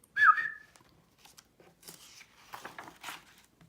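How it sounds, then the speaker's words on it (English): A short whistled warning in a children's story narration, a single bright rising tone near the start, followed by quieter rustling and faint scattered sounds. "Jack saw him and whistled a warning"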